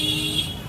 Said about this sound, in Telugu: హారన్ల సౌండ్లు అంటే horn sound, only horn sound వినిపిస్తుంది